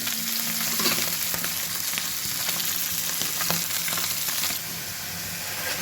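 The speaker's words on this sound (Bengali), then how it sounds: "এখানে মশলাটা কষাচ্ছি টমেটোটা দিয়ে দিই" Spices being fried with tomatoes in an oily pan, a dense continuous sizzle and crackle with occasional stirring scrapes, close and steady throughout.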